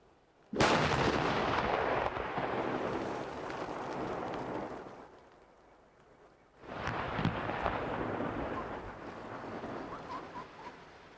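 Explosive blasts breaking up a river ice jam at Marciszów: a sudden loud boom at the start rolls into a long rumbling roar, fades, then a second heavy blast and rumble follow, with no talk.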